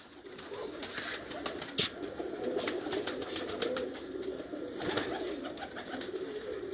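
Pigeons coo softly at a loft, with soft flutters and brief wing sounds over a steady background of bird noise.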